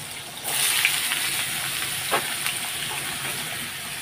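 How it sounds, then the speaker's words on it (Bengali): Diced potatoes hit hot oil seasoned with nigella seeds, bursting into a loud, steady sizzle that carries on evenly with faint stirring scrapes. "তো এই যে আলু কুচোনো, তো চলো আলুগুলো সব ঢেলে দিই।"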